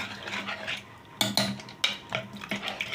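A spoon stirring and scraping inside a pot of brinjal sambar, with a few sharp metallic clinks against the rim over a soft bubbling background.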